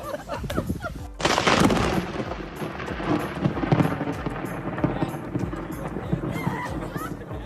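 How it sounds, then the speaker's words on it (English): A sudden loud thunder crack from a lightning strike bursts out during a groom's outdoor wedding speech, followed by a long rumbling roll, with voices talking throughout. "this groom managed to get an incredible effect when a lightning hit right after he said 2020 has not been the best year"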